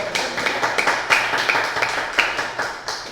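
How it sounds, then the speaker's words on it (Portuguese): A Pentecostal Assembleia de Deus church congregation claps for Jesus during a worship service, giving a short burst of close, rhythmic, fairly loud hand claps. "E uma salva de palmas para Jesus"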